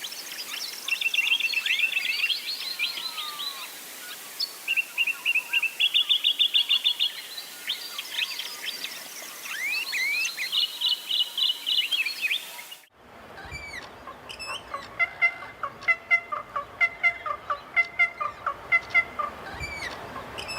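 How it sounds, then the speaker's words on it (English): An inland Australian bird with heavily streaked plumage and a pinkish, dark-tipped bill calls in Burra Sanctuary: bursts of high, squeaky, chattering notes, then a more rhythmic series of sharp repeated calls, fairly close and alone. "The call of this bird is like no other we've heard before."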